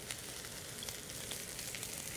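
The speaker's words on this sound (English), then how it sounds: "That's sizzling." Vegetables sizzle in olive oil in a sauté pan, a faint, steady crackling hiss with tiny pops scattered through it, close by and with no talking.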